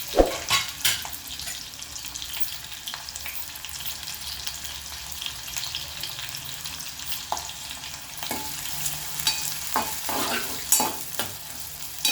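Sliced onions frying in a pan for capsicum masala curry, with green chillies and spices, give a steady close sizzle broken by intermittent scraping stir strokes, and no voices.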